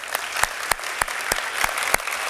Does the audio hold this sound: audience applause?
yes